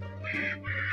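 Two short, nasal quacks from a mandarin duck in a Minecraft fauna mod, close and clear over a low steady hum.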